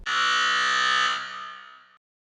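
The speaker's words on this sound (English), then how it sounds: "So after 15 minutes, you will hear a buzzer." A loud, steady electronic buzzer sounds alone for about two seconds, then cuts off abruptly into silence.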